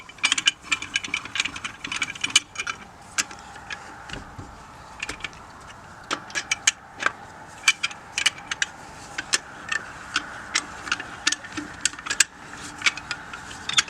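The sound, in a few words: lug nut wrench tightening lug nuts on a car tire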